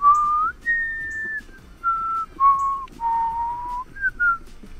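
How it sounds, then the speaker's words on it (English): A person whistles a short, sweet tune alone, a clear sequence of sustained and sliding pitched notes close by and fairly loud, with brief breaths between phrases. "It's a whistle."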